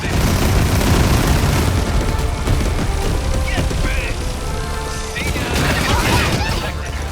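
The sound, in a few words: suppression rockets firing in 13 Sentinels: Aegis Rim video game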